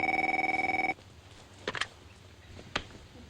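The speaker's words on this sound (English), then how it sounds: "this is when the phone rings" A telephone in a Seinfeld scene rings once, a loud, close electronic trill of pulsed bursts lasting about a second, followed by quiet room tone with a few faint soft knocks.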